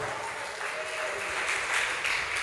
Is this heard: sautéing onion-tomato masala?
no